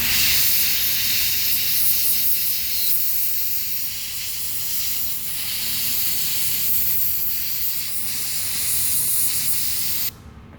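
An airbrush sprays paint in a steady, close hiss while touching up a hydrographics finish, running unbroken for about ten seconds before cutting off abruptly.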